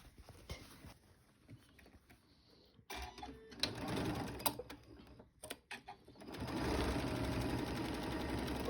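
A sewing machine back stitching on a zipper pouch runs in short bursts with pauses, then settles into a louder steady run near the end.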